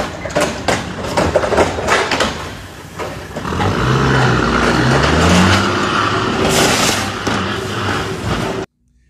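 A semi truck stuck in a parking lot rocks back and forth, giving loud engine revs and rising pulls mixed with sharp bangs and knocks from the chassis, close and harsh, before cutting off abruptly.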